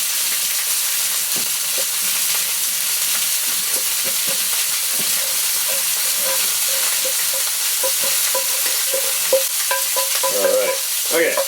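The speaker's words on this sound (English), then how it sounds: "now what I want to do, toss the potatoes in there." Potatoes tossed in a mustard, oil and vinegar dressing for Swiss-German potato salad, soft wet stirring and scraping sounds repeating over a constant hissing background.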